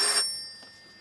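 A telephone ringing, one short bright electronic trill that cuts off quickly and leaves a faint fading ring, close and alone.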